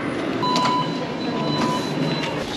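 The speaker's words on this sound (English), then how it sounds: "So we've made it on the train." Steady rumble and rattle inside a train riding toward Rotterdam, a constant broadband drone with a faint thin whine over it and no talking.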